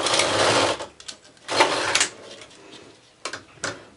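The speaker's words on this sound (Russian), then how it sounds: "Вставляем ее вместе с ниткой и провязываем один ряд." A domestic knitting machine carriage runs a row with elastic thread, giving a loud mechanical sliding whir, then a second pass and a few short clacks, close up with no talk.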